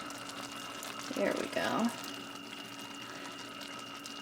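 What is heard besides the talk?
liquid being poured into a pot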